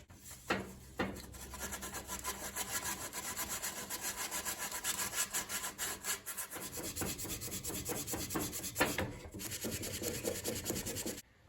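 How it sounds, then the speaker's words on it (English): Sandpaper and a file cleaning up the cut edges of an MDF pattern for sheet metal embossing, a continuous close rasping scrape with a brief pause near the start and a short break near the end. "I just want to hit this with some sandpaper, maybe a file, just to clean up any edges"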